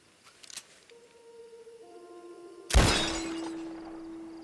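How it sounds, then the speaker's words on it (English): A sudden sharp glass shatter sound effect in Red Dead Online, preceded by faint tones and clicks, with the crash bursting loud and then ringing down while a steady tone lingers. "It makes the glass shatter noise."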